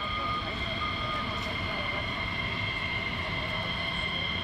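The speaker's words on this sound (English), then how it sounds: "And there we are, we have clearance for takeoff." A military jet takes off at RAF Lakenheath, a loud continuous engine roar with a steady high whine, heard from nearby without pause for the whole stretch.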